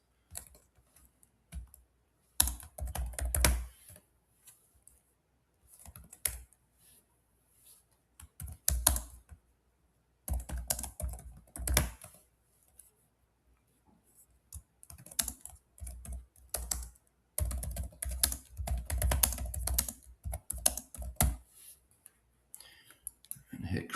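Computer keyboard typing in bursts of rapid clicks with pauses between, entering a league name while setting up a private league online; moderately close, no talk.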